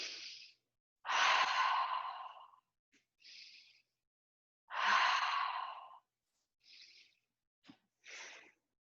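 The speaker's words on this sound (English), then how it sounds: "Breathing." Deep breathing during a self-massage on a point near the navel: slow, loud inhales and exhales alternating with quieter breaths and pauses, close and alone.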